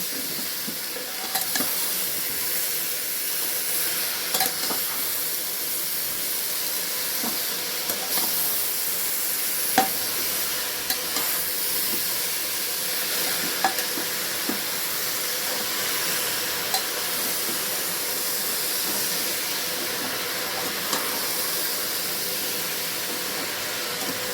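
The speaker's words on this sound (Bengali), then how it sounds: "এবার দেখো শাকটা আমি এর সাথে ভালো করে মিশিয়ে দেব।" Spinach greens are stirred in a hot frying pan for a long stretch, a steady hissing sizzle running throughout with scattered faint clicks and scrapes of the spatula.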